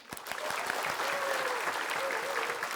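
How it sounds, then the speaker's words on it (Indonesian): Studio audience applause on an Indonesian TV comedy show, steady dense clapping that fills the whole stretch at a loud, even level with no voices over it. "Kita berikan tepuk tangan."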